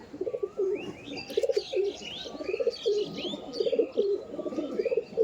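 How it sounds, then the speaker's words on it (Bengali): Madrasi pigeons in a loft coo steadily, a rhythmic series of low throaty calls close by, with lighter chirping from other birds behind and no speech. "এই দেখুন এটা হচ্ছে নর পায়রা"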